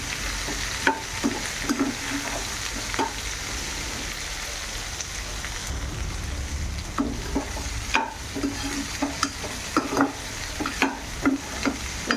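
Half a teaspoon of turmeric being stirred into a lady finger (okra) coconut curry in a pan, with scattered scraping strokes of the spoon over a steady soft sizzle, no voices.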